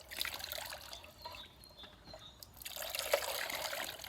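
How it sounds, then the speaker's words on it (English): Water trickles and drips steadily from a tipping bucket wheel into a receiver below, heard close up, soft and continuous with small splashes. "there's a receiver under there to catch the water and channel it away at the height at which it's tipped"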